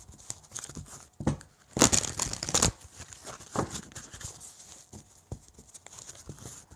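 A deck of reading cards is shuffled once up close, a dense crackling riffle of about a second standing out from quieter handling rustles before and after.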